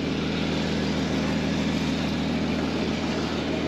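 A 2015 Porsche Cayman GTS with a naturally aspirated 3.4 litre flat-six runs steadily, a continuous even drone with a dense low-mid hum and no gaps or revving spikes.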